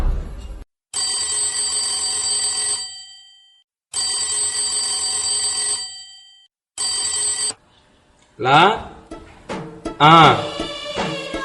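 An unanswered telephone rings in three long bursts separated by short pauses, loud and close, after which people talk.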